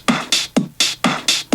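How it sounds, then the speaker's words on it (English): A 909-style open hi-hat hisses on every offbeat between short, thinned-out kick drum hits, forming a brisk, loud house drum loop with no voices. "standard sort of 909 offbeat hi-hat."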